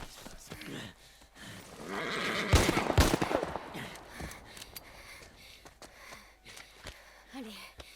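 A horse in the video game The Last of Us Part I whinnies and snorts during a tense scene, with sharp gunshot-like bangs, gasps and voices around it.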